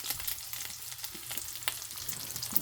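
Eggs sizzle and crackle in a hot iron skillet, a steady close frying hiss dotted with sharp pops and the occasional scrape of stirring.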